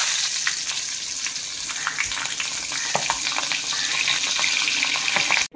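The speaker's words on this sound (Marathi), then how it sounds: "असं सगळ्या मिरच्यांना मीठ लावून घ्यायचं आणि त्यानंतर तेलामध्ये तळायला ठेवायचं" Salted green chillies frying in hot oil, a continuous close crackling sizzle with scattered pops that runs steadily throughout before cutting off abruptly at the end.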